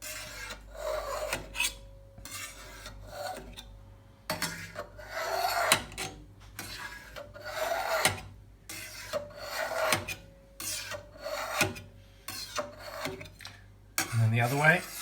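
A knife slices through homemade halloumi cheese curds in a pot, cutting them into small blocks with a series of soft, scraping strokes at an uneven pace, close and fairly quiet, with no one speaking.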